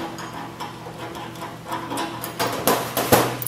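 A pre-swaged Swagelok compression fitting nut being undone, giving faint metallic clicks and scraping taps that grow a little louder and sharper toward the end.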